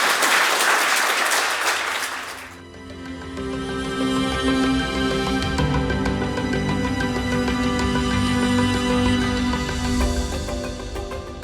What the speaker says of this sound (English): that's the point where you can applause.